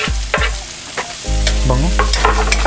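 Garlic stir-frying in a pan for pancit canton guisado: close, steady sizzling with scraping stirs of a utensil against the pan, short and continuous, with no voices.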